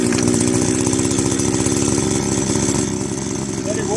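A Stanley 4-in-1 strimmer's small two-stroke engine runs on half choke, a loud close buzzing idle with a rapid rhythmic pulse that eases slightly toward the end.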